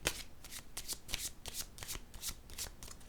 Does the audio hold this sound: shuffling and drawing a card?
yes